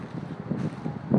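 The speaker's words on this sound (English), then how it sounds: "it's been windy all day long, so it helped dry this thing out" Wind blows outdoors on a blustery day after overnight rain, a short spell of low, uneven rumbling gusts against the microphone, close and fairly loud, with no one speaking.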